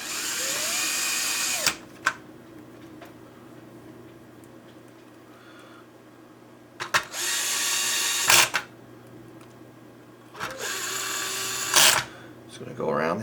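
Power screwdriver driving screws during a GCLoader installation, three short whirring bursts separated by quiet pauses with small clicks and handling noises, close up.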